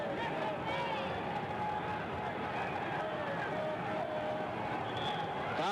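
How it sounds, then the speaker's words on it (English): An arena crowd at a 1964 NBA Finals game between the Celtics and Warriors roars in a near frenzy, a steady loud wash of cheering and hubbub that carries on unbroken. "And this crowd is in a near frenzy."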